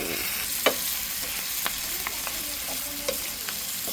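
Lechon pork sisig stirred in a hot pan with soy sauce, a continuous close sizzle broken by scattered clicks and scrapes of the utensil against the pan.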